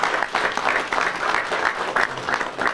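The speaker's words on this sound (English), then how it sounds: "Y'all need to give them a round of applause" An audience at a press conference breaks into steady, sustained applause, the clapping holding at a fairly even level throughout with no voices on top.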